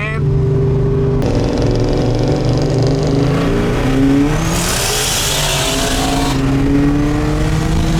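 A supercharged Ford FG XR8 and a turbocharged LS-powered car roll racing: loud, close engines rev and climb through gears with rising whine, while people talk excitedly over the roar.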